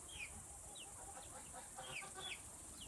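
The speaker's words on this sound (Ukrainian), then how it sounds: "то кури кричать на дворі" Frightened chickens in a farmyard give short, high clucks and squawks, faint and somewhat distant, scattered over a steady background hiss.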